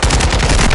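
Rapid, loud hip-fired gunfire from a weapon in Modern Warfare 2, a dense continuous burst of close shots filling the short moment with no voices.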